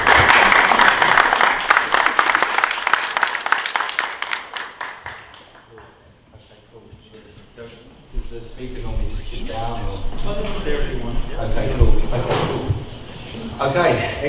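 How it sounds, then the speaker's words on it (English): An evening talk audience gives loud applause that fades out over several seconds, followed by near quiet and then someone speaking to the room. "So please, a big round of applause."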